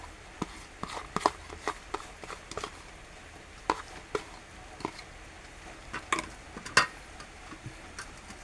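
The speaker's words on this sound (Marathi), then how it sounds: "आता आपण हे पण ढवळून घेऊ" Grated coconut and sugar being stirred in a pan: soft, irregular scraping ticks and light taps of a spoon, quiet and close, with a faint sizzle beneath.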